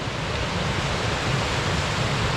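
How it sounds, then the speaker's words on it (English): A waterfall at Paradise on Mount Rainier rushes in a continuous, even hiss of falling water. The sound is fairly loud and unbroken, with no voices. "Got a good waterfall here, but no getting down to it."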